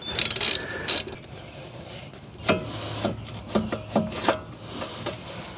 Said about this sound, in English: let's go ahead and get this caliper off while it's nice and cooking